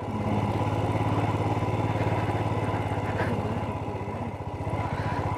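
A motorcycle engine runs steadily at close range on a mountain road near a high Himalayan village, its low throbbing drone holding constant throughout with no voices over it.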